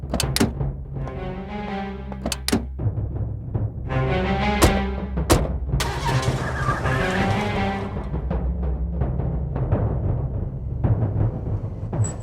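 Car engine starting and pulling away, with sharp rising revs and tire-like squeals in bursts, then a steadier running drone, loud and close.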